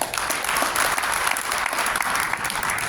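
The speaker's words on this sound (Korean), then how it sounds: "박수로 환영해 주십시오" An audience at a journalists' meeting at a press center gives a warm round of applause to welcome a speaker, with dense, even clapping throughout and only a faint murmur of crowd beneath.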